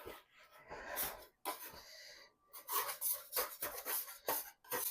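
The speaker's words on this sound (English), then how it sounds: "Let's scrape up the sticky part." Sticky Christmas cutout cookie dough being scraped up off a floured surface, giving close rubbing, rasping strokes in uneven bursts with short pauses between them.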